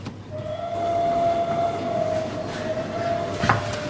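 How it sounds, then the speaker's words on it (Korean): A train draws near with a steady rolling rumble and a long, sustained whistle-like tone, capped by a brief louder clack near the end, with no voices. "근데 기차가 가까이 와서야 기차를 발견했습니다."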